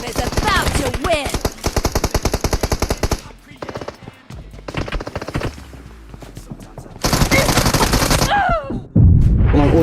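Gunfire in the PUBG Mobile video game: loud, rapid automatic bursts separated by quieter gaps, with a final heavy burst near the end.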